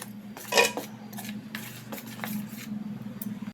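Cornflour, chilli powder, salt, garam masala and coriander powder are stirred together in a bowl for okra pakoda, with a sharp scrape near the start, then soft, steady scuffing over a low background hum.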